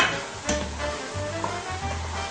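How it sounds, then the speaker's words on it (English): Onions sizzle in a pan, a steady close frying hiss with a few stirring scrapes and clicks, moderately loud and with no talking. "The onions are sauteing and they're turning slightly brown."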